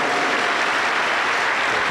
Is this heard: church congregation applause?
yes